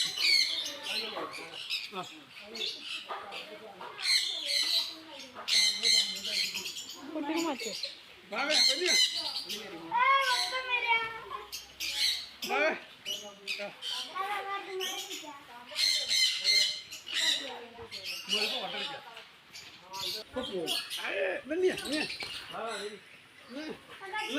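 Small birds squawk and chirp in a dense, continuous chorus of overlapping calls, loud and close throughout, with sharp repeated squeaks rising over the busy flock.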